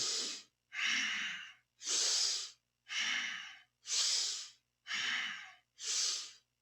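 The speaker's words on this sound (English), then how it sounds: "really focus on a deep and full inhale and a complete exhale" Seven deep breaths in a Kundalini yoga breathing exercise, each a strong, airy rush of air through the nose and mouth, separated by short pauses in an even, slow rhythm, close and clear.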